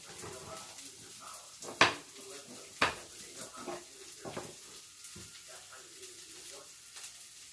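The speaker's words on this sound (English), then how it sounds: "Put this garlic in there." Two stems of garlic go into a cooking pot of okra over a flame, with two sharp metallic clinks of a utensil against the pot followed by softer stirring scrapes and a faint sizzle, with faint voices in the background.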